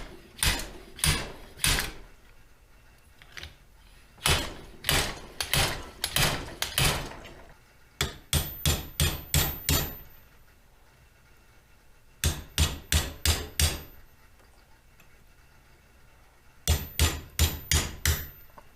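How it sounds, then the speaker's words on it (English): Hammer blows on a drift knock bearing races out of a Ford 9 inch rear end, sharp metallic strikes in quick bursts of three to six separated by short pauses, loud and close with no talk. "get a drift and hammer both of these races out"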